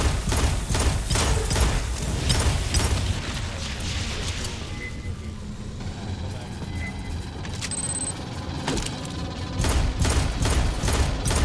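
A deployed sentry gun turret in the game Aliens Fireteam Elite fires rapid, continuous bursts nearby, mixed with mechanical clanks and impacts, while a voice speaks over the din.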